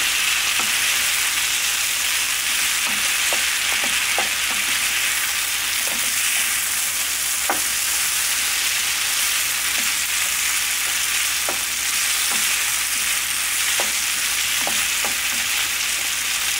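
Vegetables, including peppers, frying in a pan for a vegan dish, with a steady loud sizzle and scattered soft scrapes and clinks as they are stirred close by.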